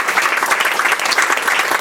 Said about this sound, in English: So let's give another applause.